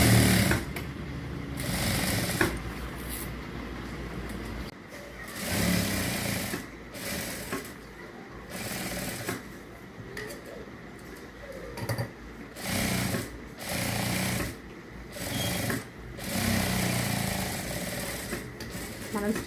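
A sewing machine stitches a blouse lining with a thick stitch setting, running in repeated bursts of steady rapid whirring separated by brief pauses, close and fairly loud, with a voice talking over it.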